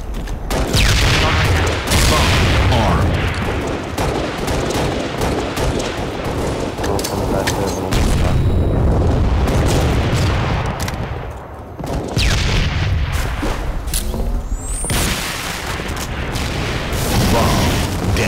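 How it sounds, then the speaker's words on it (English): Loud, continuous battle din in the multiplayer shooter Halo Reach, with dense gunfire, booming blasts and a bomb detonation merged into one heavy wall of noise throughout. "Bomb detonated."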